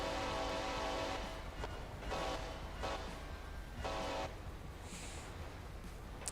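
A steady roar of a train rushing through a tunnel in a video game, with rhythmic swells of rumbling and a brief high tone near the end.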